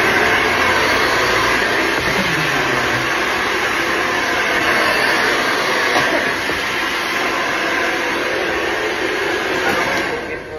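A handheld hair blower runs continuously at close range, a loud, even rushing drone that holds for about ten seconds before easing off at the very end.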